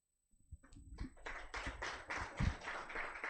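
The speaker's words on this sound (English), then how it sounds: "I do not know if you had on your end hand claps from the audience here." Hand claps from an audience after a climate litigation workshop presentation, a brief scattered start building into steady, moderately close applause lasting a few seconds with no talk.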